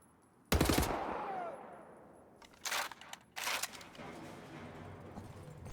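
Rifle fire in Wolfenstein: The New Order comes as one sharp loud shot followed by two more bursts a couple of seconds later, each leaving a short echoing tail over quiet background.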